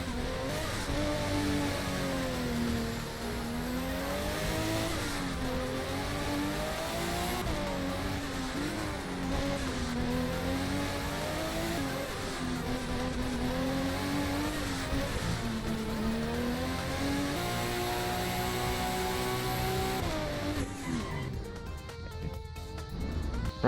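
A Nissan GT-R R34 in the Midnight Racing Tokyo video game drives hard, its engine droning and rising and falling through the gears in a continuous steady roar, with no voices over it.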